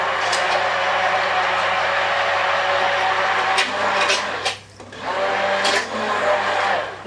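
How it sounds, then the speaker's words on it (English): A stick blender whirring loudly through warm day cream ingredients, a continuous buzzing motor drone with a couple of brief dips and surges as it is lifted and moved. "if we just bar mix this as it warms up, it all happens pretty quickly"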